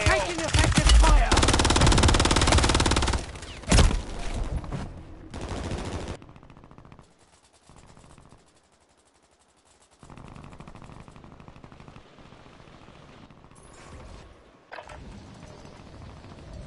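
Warzone video game gunfire, with dense automatic bursts loud and close at first, then quieter scattered shots and game effects farther off.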